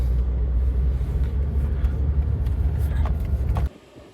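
A Jeep's engine runs with a steady low rumble from inside the moving vehicle, loud and continuous until it drops away abruptly near the end.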